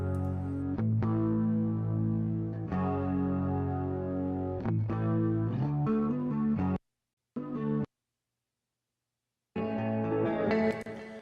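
Heavily distorted electric guitar chords ring out, pause briefly into near silence, then return with a thick, crunchy, sustained tone.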